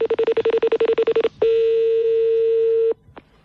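A telephone keypad dials a quick string of about a dozen even DTMF tones, then a steady ringback or line tone holds for about a second and a half before cutting off.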